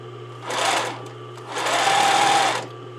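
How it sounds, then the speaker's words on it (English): A sewing machine stitches a pocket bag to the jacket seam allowance on a besom pocket, two close bursts of rapid whirring with a short pause between. "I'm just going to take my pocket bag and my jacket seam allowance, my pocket seam allowance, and sew them together."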